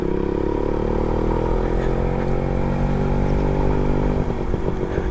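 An old Suzuki Max 100R motorcycle running while ridden, a steady close two-stroke engine drone that roughens near the end.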